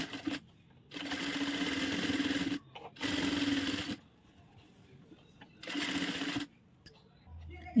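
A sewing machine runs in three bursts of steady stitching along a blouse lining, separated by pauses and handling noise, fairly close and without talk.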